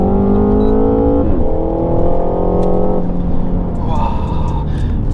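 A Renault Mégane 4 RS Cup accelerates hard at full throttle, its engine note climbing loudly from inside the cabin and breaking at gear changes, with voices talking over the drone.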